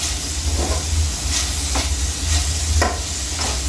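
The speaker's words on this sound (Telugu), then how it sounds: "చూడండి ఎంత బాగా ఫ్రై అయింది" Mint leaves and chillies fry in a pan for mint chutney, making a loud, steady sizzle with occasional stirring scrapes close by and no talking.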